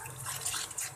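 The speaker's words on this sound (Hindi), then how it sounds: "हल्का सा पानी का छींटा ऐड करेंगे" A light splash of water hits frying masala in a pan for egg curry, giving a brief, faint hiss and sputter with no voices.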